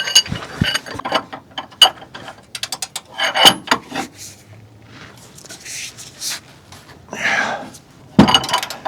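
A hand ratchet works loose an alternator bolt on a first-generation Honda CR-V, giving bursts of close, rapid clicking with pauses and some metallic creaks between strokes.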